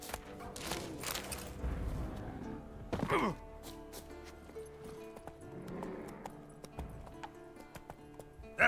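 Roach, Geralt's horse in The Witcher 3, gallops with steady clip-clop hoofbeats under layered game music and ambience, with a few heavier thuds and breaths along the way.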